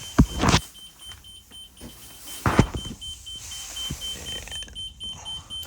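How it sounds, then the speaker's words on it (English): A 2022 Entegra Aspire 44B motorhome engine cranks and catches with a loud burst, then settles into an idle as a high steady warning tone sounds in the background. "Start the coach up."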